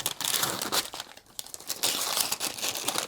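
Paper wrapping being torn and crinkled off a Folio Society hardcover book, a first edition shipped from the UK, with continuous close rustling and tearing bursts that dip briefly in the middle.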